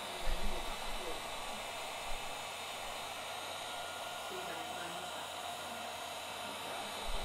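A heat gun blows a constant, loud airy roar while reheating hot glue on a Nightwing cosplay's abs piece, the steady whoosh running unbroken with a faint bump near the start.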